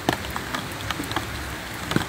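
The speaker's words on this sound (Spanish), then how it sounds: "la lluvia no para de caer y se tiene ya las calles totalmente inundadas" Heavy rain pours steadily onto flooded streets in San Borja, Beni, a dense constant wash with scattered louder drops, no voices.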